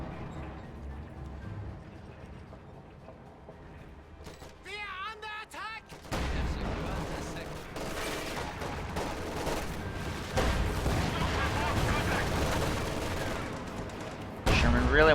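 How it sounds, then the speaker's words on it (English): Tank cannon and anti-tank gunfire in a WWII strategy game battle, Panzerfaust and anti-tank gun shots booming amid dense, continuous combat noise that grows louder partway through, with a voice speaking over it. "Just took a Panzerfaust and a big anti-tank gun shot"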